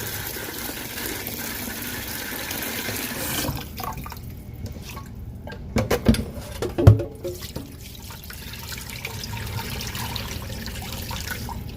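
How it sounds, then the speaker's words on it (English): Rice is washed with water in a pot: running water and sloshing at first, then quieter dripping and swishing with a few louder splashes and clunks nearby. "I'm going to get this rice out and wash it out."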